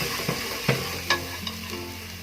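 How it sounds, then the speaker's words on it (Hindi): Chilli and spices fry in a pan for an arbi-leaf besan sabzi, a soft steady sizzle punctuated by a few sharp spoon knocks and scrapes against the pan, close up and without speech. "मसाले को अच्छे तरीके से भूनेंगे हम"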